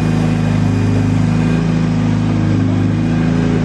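A freshly built 3.4-liter 2JZ engine runs at a steady, loud idle with a deep rumble that holds evenly throughout, close by and with no voices over it.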